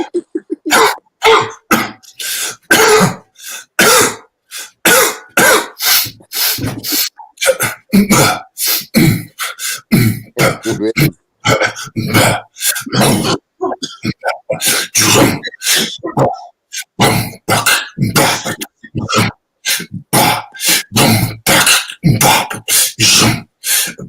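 Repeated coughing fills the whole stretch, dozens of sharp bursts in a loose rhythm, loud and close, with a few short gaps.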